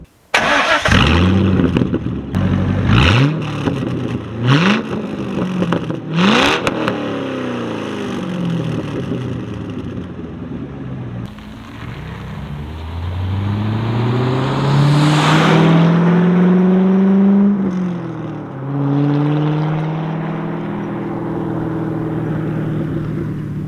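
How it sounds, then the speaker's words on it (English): A sports car with a Borla X-pipe and Borla axle-back exhaust revs hard several times in sharp bursts, then settles into long rising and falling throttle pulls with a deep, raspy exhaust note. "has a Borla X pipe as well as a Borla axle back exhaust"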